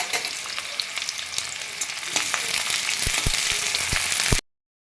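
Sliced onions fry in oil and ghee in a pan, a steady crackling sizzle with sharp stirring clacks that grow busier toward the end before cutting off abruptly.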